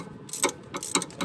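Ratchet snugging up a front CV axle bolt on a 1999 Infiniti QX4 / Nissan Pathfinder, a few close, sharp clicking strokes in a short burst.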